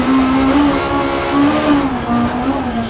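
Peugeot 306 Maxi rally car on a tarmac stage of Rally Germany, its engine holding a loud, steady, close-up drone with slight rises and dips in revs throughout.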